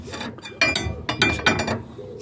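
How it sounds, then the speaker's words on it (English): A breaker bar and a dead blow hammer work on a Volvo XC90 lower ball joint, giving a close run of sharp metallic clanks and ratcheting knocks in irregular bursts, with no talking. "I'm just using a dead blow and a breaker bar here."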